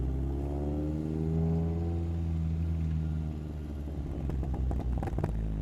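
A Chevy Spark with modified exhaust and cats holds a steady rev near 2,200 RPM in first gear, a deep droning engine tone, then the throttle lifts and crackling pops and burbles sputter from the exhaust, close and loud.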